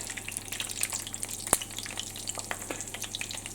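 Food sizzles and crackles in a pan while being flipped during cooking in the Starfield video game, a steady, fairly quiet fry with one sharp clack partway through.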